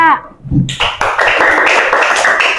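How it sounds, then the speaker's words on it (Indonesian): Classroom applause for a group of presenting students, a burst of many hands clapping that starts after a short voice and continues steadily, fairly loud and close. "Beri aplaus untuk kelompok 3."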